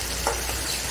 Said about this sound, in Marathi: मस्त फोडणी द्यायचं असं